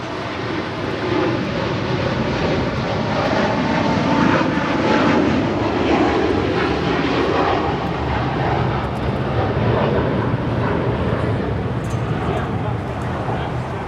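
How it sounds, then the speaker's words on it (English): Cathay Pacific Boeing 777-300ER in One World livery departing LAX for Hong Kong: a loud, sustained jet engine roar that swells slightly mid-takeoff and stays near and constant to the end. "That was Cathay Pacific Flight 885 departing to Hong Kong. It's a 777-300ER in the One World livery"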